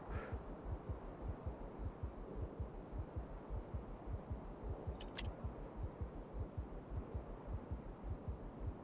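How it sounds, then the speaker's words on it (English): Low-health heartbeat warning in the Factorio game, a steady muffled double thump repeating throughout over a low ambient hum, with no speech. "I hope our health recovers enough that we're not hearing the heartbeat."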